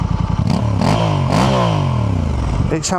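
A Honda motorcycle with its stock exhaust revs up and down several times, its pitch sweeping high and low, loud and close, with a brief clatter at the start.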